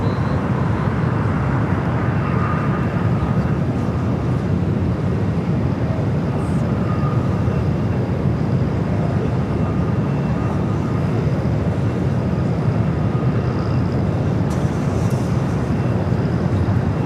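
A Latam airliner starts its takeoff roll on runway 25 at LAX, a sustained loud engine roar heard from a distance, with no talk.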